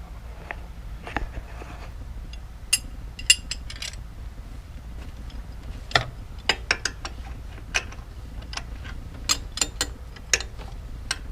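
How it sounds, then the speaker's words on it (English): A 15mm wrench turns a bolt on a Ford Taurus during a coolant leak repair, giving scattered metallic clicks, ratcheting ticks and light clinks at irregular intervals, close and fairly quiet. "now I just got to get a 15mm in here and bring it this way"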